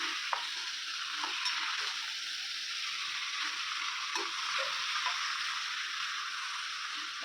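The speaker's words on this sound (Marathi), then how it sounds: "तेल थोडंसं गरम झालं की त्याच्यामध्ये आपण हे मटण टाकू आणि त्याला मिक्स करून देऊ" Mutton fries in hot oil for a Nagpuri Saoji-style mutton curry, giving a continuous bright sizzling hiss with occasional faint taps and scrapes as the pieces are stirred.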